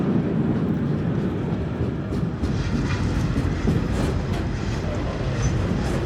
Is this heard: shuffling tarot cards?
no